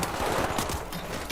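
Rapid turret gunfire in a video game, a dense continuous rattle of shots holding steady and loud throughout, with a sharper burst near the end.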